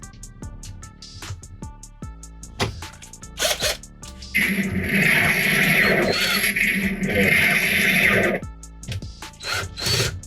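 Screws go into a Marvel Legends Avengers Endgame Stormbreaker replica: scattered close clicks and handling knocks, then a loud whirring burst of about four seconds, followed by more light clicks.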